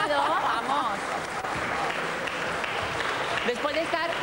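A studio audience applauds steadily at moderate volume, a continuous wash of clapping with a voice speaking over it at the start and again near the end.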